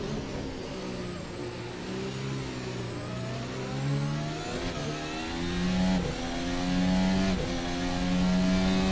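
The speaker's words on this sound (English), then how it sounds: "Beautiful shot here of Pete Rader's car as he chases down his Ferrari teammate, the number 16 of Matt Chabris." Ferrari race cars accelerating hard at Suzuka, engine notes climbing through gears in loud, rising sweeps with brief drops at each upshift, continuous and close with no talk.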